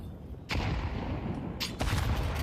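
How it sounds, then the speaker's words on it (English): Grenade blasts in Counter-Strike during a Heroic vs 9z LAN match, a run of loud booming detonations with a sharp onset, then a second burst about a second later, no voices. "Opting to go for the nades instead. There's 4 nades in total down Banana."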